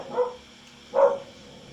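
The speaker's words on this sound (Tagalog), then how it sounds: "Tumatahol yung aso." A dog barks twice, each a single mid-pitched bark about a second apart, fairly close and clear against a quiet indoor background.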